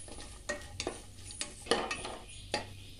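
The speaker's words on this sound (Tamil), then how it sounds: "அடுத்ததா முந்திரி பருப்பு எடுத்து வச்சிருக்கோம் இல்லையா அதை சேர்த்துறலாம் சேர்த்து நல்லா வறுத்து விட்டுக்கலாம்" Cashew nuts frying in a pan for mint rice, a low sizzle punctuated by several sharp spatula scrapes and clinks against the metal, no talk.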